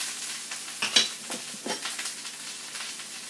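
Beef browns in a frying pan while being turned, giving a quiet sizzle broken by several sharp scraping stirs and clinks over a few seconds.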